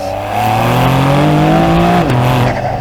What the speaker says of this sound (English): And you can hear the backfires.